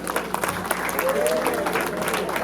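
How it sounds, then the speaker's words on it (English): Audience applause at an Ikwuano Umuahia cultural day event, a steady wash of clapping that sustains without a break, with voices mixed in underneath. "Please give us a round of applause."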